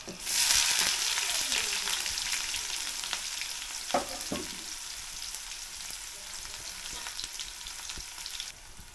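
Onions sizzle and fry in a pan as the base for a chicken curry, with a steady dense crackle, a few louder stirring scrapes around the middle and no talking.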